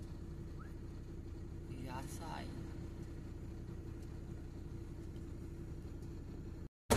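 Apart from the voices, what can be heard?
truck maneuvering onto a weighing scale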